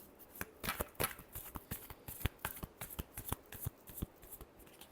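Tarot cards are shuffled by hand in a quick run of crisp riffling snaps and soft slaps, close and fairly quiet, with no talking over it.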